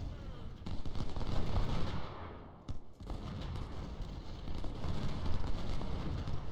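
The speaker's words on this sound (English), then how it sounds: "my concentrated artillery is basically blasting them sideways" Concentrated artillery fire from Civil War cannons in the strategy game Ultimate General: Civil War, shown as a dense, continuous rumble of booming shots with a short dip partway through, loud and sustained with no talk.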